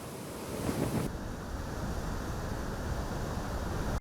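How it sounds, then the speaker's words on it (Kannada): Heavy inflow pouring into the Tungabhadra reservoir gives a broad, steady roar of rushing water mixed with wind buffeting the microphone, continuous and fairly loud throughout. "ತುಂಗಭದ್ರಾ ಜಲಾಶಯಕ್ಕೆ ಅಪಾರ ಪ್ರಮಾಣದ ನೀರು ಹರಿದು ಬರ್ತಾ ಇದೆ"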